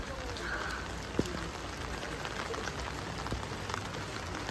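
Steady rain falling on an almost empty road along Mall Road in Shimla during peak monsoon, a soft even hiss with scattered drops and one brief tap, fairly faint.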